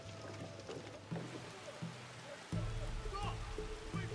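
Steady rain hisses through a rainy scene in Assassin's Creed Shadows, a constant wash of falling water with low rumbling and faint game sounds layered beneath it.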